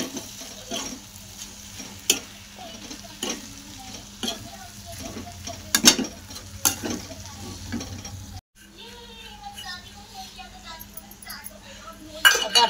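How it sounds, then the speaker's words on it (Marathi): Brinjal and potato with masala stirred in a pan, with repeated scraping clinks of a spoon against metal over a soft sizzle, a brief pause, then more stirring. "तर आता याला मी मिक्स करून घेते चांगले"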